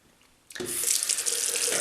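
A 1960s Schick Krona double-edge safety razor rinsed under a running tap: after a brief near-silence the water gushes on suddenly and keeps splashing steadily into the sink, close and bright.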